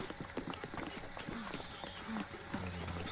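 Horse hooves clip-clop in the video game The Legend of Zelda: Breath of the Wild, a quick run of light rhythmic hoof beats under game music, with a voice talking over them.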